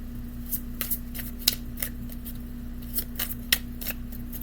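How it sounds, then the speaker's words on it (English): Tarot cards being shuffled by hand, a series of soft, crisp riffling bursts and taps at an uneven rhythm, close and quiet over a steady low hum, with no talking. "And we're going to shuffle the tarot cards."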